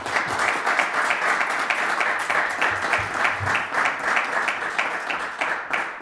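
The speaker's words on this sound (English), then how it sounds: "I ask that you give them and yourselves a round of applause for the work that you do on behalf of Bridgewater" Sustained applause from a town-meeting audience at a State of the Town event, dense even clapping filling the room for the full six seconds.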